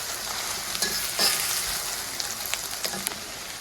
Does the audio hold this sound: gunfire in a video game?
no